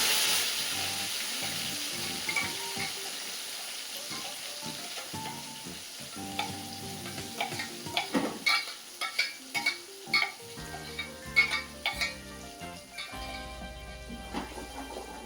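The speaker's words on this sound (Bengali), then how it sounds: "মশলাটা ঢেলে দিলাম।" Ground spices poured into hot oil for a chicken curry, with steady frying sizzle and hiss alongside repeated close scrapes and clacks of a spoon stirring the pan.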